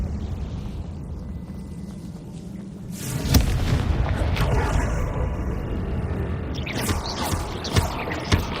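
A Confringo blasting curse detonates in a Hogwarts video game, a sudden heavy boom after a quieter rumbling stretch, followed by sustained crackling debris and a few further sharp hits.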